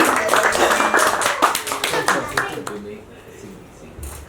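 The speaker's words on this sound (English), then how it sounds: "So huge round of applause for Vivek Singhi." Audience applause for magician Vivek Singhi at a live show, a dense burst of clapping that fades out midway, with a voice speaking over it.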